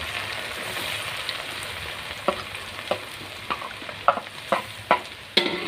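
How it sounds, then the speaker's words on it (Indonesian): Tempeh pieces sizzle quietly as they fry in hot oil, with sharper clicks and scrapes from a utensil becoming more frequent toward the end. "pertama kita tumis dulu, kita goreng tempenya"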